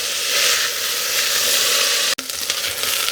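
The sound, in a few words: onions and green peppers frying in pan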